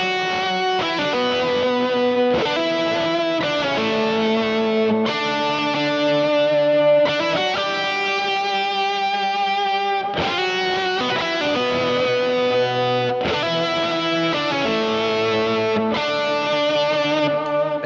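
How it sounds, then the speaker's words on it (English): Electric guitar with effects and light distortion playing a melodic worship hook, phrases of sustained notes with hammer-ons, pull-offs, slides and vibrato in syncopated rhythm, clear and up close with no talking. "I'm just using some hammer-ons, pull-offs, slides, vibrato, and some syncopated rhythms in order for me to get that melodic passage"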